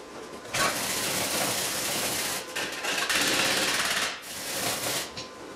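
A V8 Combat inverter welder stick welding a car body panel gives a loud, steady crackling buzz in long continuous bursts with brief pauses between them, close up and heard alone.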